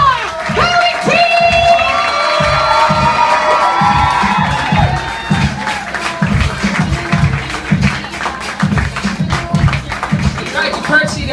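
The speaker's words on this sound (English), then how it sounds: "Start clapping. Start clapping." A loud poetry slam audience claps and cheers steadily, with whoops and shouts over dense rhythmic clapping throughout.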